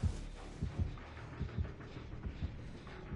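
The killer's heartbeat warning in Dead by Daylight, a low, faint, steady double thump repeating about every second and a half under quiet game ambience, no talk.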